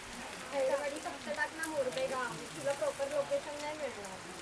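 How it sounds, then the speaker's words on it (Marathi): Heavy July rain falls at a rural farmhouse in Panvel, a constant wash of hiss beneath people talking close by for most of the stretch. "जोरात पाऊस पडला काही."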